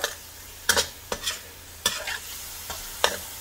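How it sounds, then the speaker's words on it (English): Mee goreng noodles in dark soya sauce tossed in a hot pan, a spatula scraping and clacking in about five distinct strokes over a low sizzle, close and unaccompanied by speech. "Give it a good stir."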